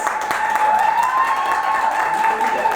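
An audience at a breast cancer awareness event gives steady, continuous applause, with a dense wash of many hands clapping throughout.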